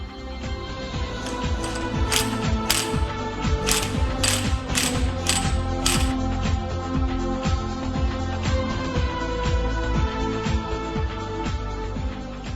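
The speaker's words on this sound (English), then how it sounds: "use the special nut puller and the primary gear holder special tools to tighten the driver gear special nut and the Allen bolt" A repeated ratcheting, clicking mechanical sound as the balancer gear special nut on a Bajaj Pulsar RS200/NS200 engine is tightened using a special nut puller and primary gear holder, steady close metallic ticks with sharper clacks in the first half.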